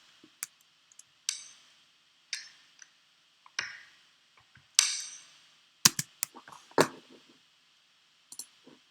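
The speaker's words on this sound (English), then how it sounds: "I just recorded the sound of crumpling some paper up" Paper being crumpled by hand as a stand-in for money fluttering in the wind after an explosion: a series of sharp, dry crackles and rustling bursts, close and isolated against near silence.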